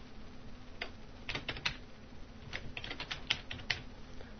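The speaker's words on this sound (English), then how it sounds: "Type in the new name for the tool" Someone types on a computer keyboard while renaming a tool in the Eyeon Fusion interface, with irregular clusters of light, quick key clicks at close range and brief pauses between bursts.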